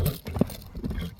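A two-year-old horse offered for sale ambles past in a few faint, soft hoof clops on the ground, with quiet background voices.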